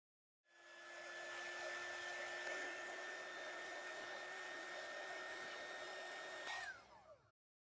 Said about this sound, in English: I will use the heat gun to make it pliant again.